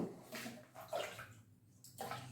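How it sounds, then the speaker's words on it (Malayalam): Water poured out of a vessel after hand washing in a home kitchen, a few quiet splashing gushes with short pauses between them, heard alone. "വെള്ളം ഒന്ന് കളയും കൈ കഴുകിയിട്ട്"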